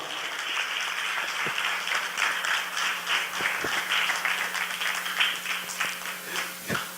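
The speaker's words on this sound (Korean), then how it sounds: "우리 네 분의 강사님들을, 우리 대표님들을 앞으로 박수로 맞이하도록 하겠습니다" A seated audience at a CEO talk show applauds to welcome four speakers to the stage, sustained even clapping with a few sharper individual claps standing out, a faint steady hum beneath.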